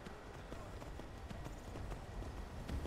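Horse hooves clip-clop steadily at a riding pace in the video game Skyrim, a rhythmic patter under a dense, noisy game soundscape.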